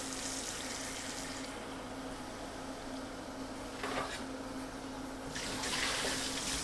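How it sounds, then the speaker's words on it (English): Cold tap water runs into a pan holding food in a home kitchen, a steady hissing splash with a faint hum underneath and a couple of brief surges where the flow hits harder. "Run them under cold water to cool them down."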